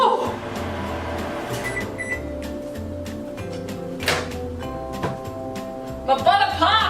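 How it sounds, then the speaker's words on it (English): Butter popping and spattering as it softens in a microwave oven, with a steady low hum running throughout, scattered sharp pops, and a louder burst of crackling near the end. "My butter popped!"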